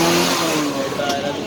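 A used motorcycle engine revs at a busy secondhand bike market in Karachi, a steady loud mid-pitched drone with shifting tone, surrounded by crowd noise and nearby talk.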